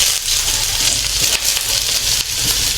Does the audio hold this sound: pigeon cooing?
no